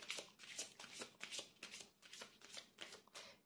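A deck of tarot cards being shuffled by hand, close and crisp, with a steady run of riffling bursts about every half second and no talking.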